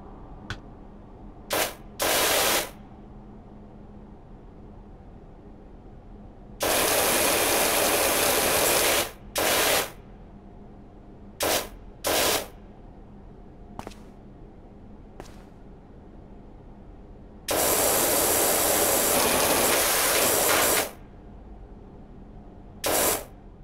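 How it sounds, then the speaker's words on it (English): Power Wash Simulator on Windows plays its loud pressure-washer spray in long, hissing bursts lasting several seconds, broken up by short blasts and quiet gaps, with no talk over it. "Now I will use my controller with a popular Windows-only game from Steam,"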